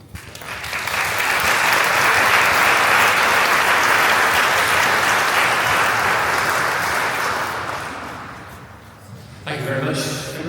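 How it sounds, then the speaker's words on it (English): Audience at a St David's Day event clapping, a full, loud wash of applause that swells, holds and slowly fades, then a voice starts speaking at the end. "I don't know if those applause were for Federico or for me"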